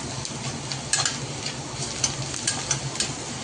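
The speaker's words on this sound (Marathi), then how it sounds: "गरम मसाला, धना पावडर, थोडासा आपला लाल मसाला, घाटी मसाला, हळद पावडर फ्राय करून घेऊ" Dry ground spices such as garam masala, coriander powder, red chili masala, ghati masala and turmeric fry in a pan for bhindi bhaji, giving a soft, steady sizzle with a few light stirring clicks and scrapes.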